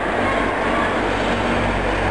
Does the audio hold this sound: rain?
no